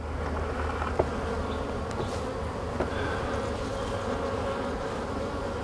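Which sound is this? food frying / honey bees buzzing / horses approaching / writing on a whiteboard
honey bees buzzing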